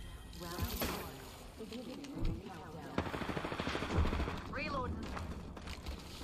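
Sentinel sniper rifle shots in the battle royale game Apex Legends: several punchy, separated reports ring out over game ambience while a character's voice lines play.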